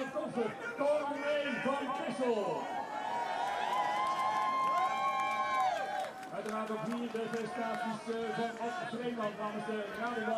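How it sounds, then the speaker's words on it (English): A fan club cheers and shouts for rider Kevin Pauwels at a cyclo-cross World Cup race in Hoogerheide, Netherlands, a close, loud chorus of voices with rising and sustained chanted cries, continuous over the whole stretch. "the fan club of Kevin PAUWELS cheering him on as they always do"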